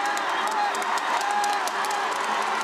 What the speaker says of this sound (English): And the cheer of Rossiya